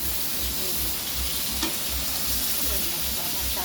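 Fish fries in a pan with a steady, dense sizzle that holds at an even level throughout, close by and loud, with no one speaking over it.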